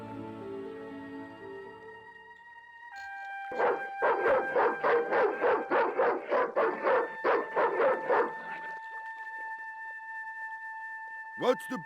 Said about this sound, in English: The dog went berserk for no apparent reason.